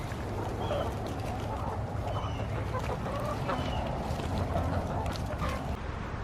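Backyard chickens cluck and murmur steadily while being fed cool-season greens, close and continuous, with occasional louder calls over a constant low background.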